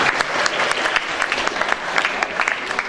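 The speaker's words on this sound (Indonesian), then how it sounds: "Tepuk tangan untuk Pak Made Wardana." Audience applause for Pak Made Wardana at a national seminar in Bali, a short burst of dense, close clapping from a room full of people with no voices over it.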